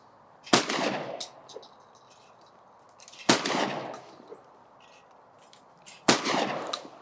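A Benelli M2 shotgun fires three loud shots from the shoulder, evenly spaced about three seconds apart, each a sharp blast followed by a rolling outdoor echo.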